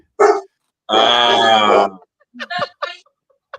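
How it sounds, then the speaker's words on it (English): An excited dog lets out a short yelp, then a long, loud howling bark, followed by a quick burst of sharp, close barks with pauses between them. "And even the dog is going crazy."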